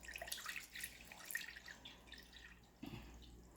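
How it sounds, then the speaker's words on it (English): Water poured into a hydroponics container gives soft, close trickling and dripping splashes that fade, followed by a brief low thud near the end. "So we need to pour our water in this."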